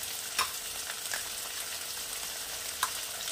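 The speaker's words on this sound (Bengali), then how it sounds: "দিয়ে চিকেনটাকে ভালো করে ভাজবো" Small pieces of boneless chicken frying in a pan with ginger and garlic paste, a steady crackling sizzle with a few sharp scrapes of stirring, close and alone.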